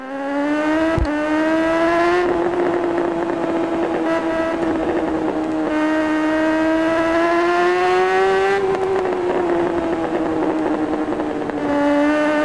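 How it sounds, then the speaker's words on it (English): Motorcycle engine droning continuously with rising and falling pitch while cornering in the RiMS Racing video game, tyres squealing through a cambered bend, loud and steady with no talk. "Tyres aren't liking it through that corner, even though it's got nice camber."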